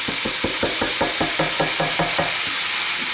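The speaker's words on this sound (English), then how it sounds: "So I've got two cartons of chopped tomatoes that I'm just going to add to this." Two cartons of chopped tomatoes going into a pan of sizzling vegetables, with steady frying hiss and a regular run of wet stirring or scraping strokes, close and loud, no talk.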